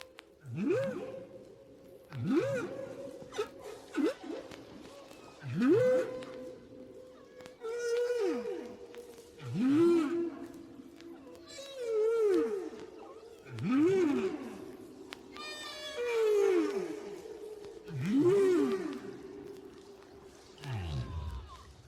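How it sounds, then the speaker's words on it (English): A humpback whale sings a structured song of repeated swooping moans and upsweeping cries. The phrases come in a steady cycle of loud units every couple of seconds, with higher chirps between them, heard alone without talk. "Here's a song recorded 5 years after the one we just heard."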